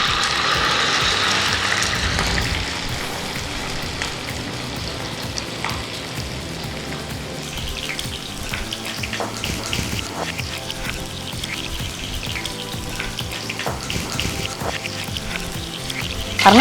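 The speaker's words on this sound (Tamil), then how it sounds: "தீயை கொஞ்சம் குறைச்சிட்டு நம்ம நண்டை பொரிச்சு எடுத்துக்கலாம்." Crab pieces frying in hot oil over lowered heat, a steady broad crackling sizzle with dense bubbling that runs throughout, louder at the start and joined by occasional clicks and sharper pops near the end.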